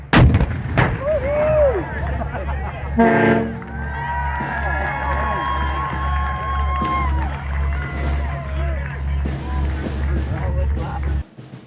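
A reenactment cannon at a fort on Tybee Island booms once, a sharp blast that rolls out over open air, followed by a crowd cheering and whooping under wind noise.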